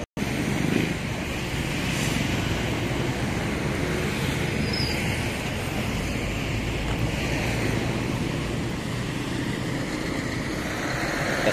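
Steady wash of sea surf and wind at the coast in El Salvador City, Misamis Oriental, a continuous broadband roar with wind buffeting the microphone and no talk.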